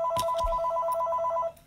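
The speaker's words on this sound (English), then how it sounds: "Oh, my phone's ringing." A phone rings close by, a steady electronic warbling tone repeating in quick pulses for just over a second before cutting off.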